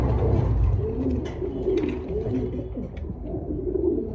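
A male pigeon coos nearby in a cage in low, rolling throaty calls repeated over several seconds, with a faint rumble beneath.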